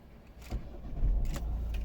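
Keys jangle and click in the ignition of a 2010 Volvo V50 R-Design 1.6 D2 diesel, followed by a low hum and rumble as the car's electrics come on, close up.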